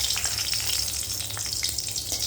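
Two dried chilies frying in hot oil in a wok, a dense, steady crackling sizzle heard up close with no talking.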